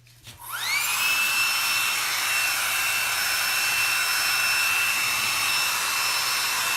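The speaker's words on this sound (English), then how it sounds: "sometimes you can actually hasten it a little bit with a blow dryer" A blow dryer switches on and spins up to a steady, loud whine with a high-pitched tone over a whooshing rush of air, running close and continuously with no talking.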